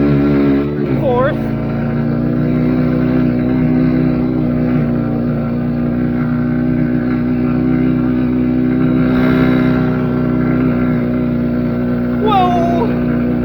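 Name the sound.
Kawasaki KLX110 minibike with Timbersled Ripper snow kit, top speed run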